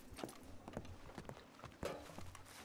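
Brief, faint clip-clop of a horse's hooves in Red Dead Redemption II, a few unhurried steps on hard ground at low volume.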